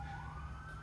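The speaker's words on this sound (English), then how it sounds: "ignore the sirens in the background" Sirens wailing in the distance, a steady rising tone faint behind low rumbling traffic noise.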